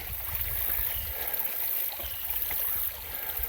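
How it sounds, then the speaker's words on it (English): Creek water rushing steadily past a gold prospecting dig, a broad continuous wash of flow with low churning rumble and no talk. "Water's starting to move faster"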